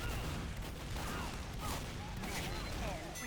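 Grenade explosions during a competitive Team Fortress 2 match, a dense barrage of blasts and bursts mixed with game noise and chatter from commentators, steady and busy throughout.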